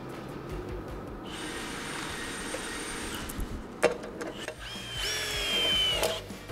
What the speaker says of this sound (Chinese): 错，不是起子机，那就是电钻啦。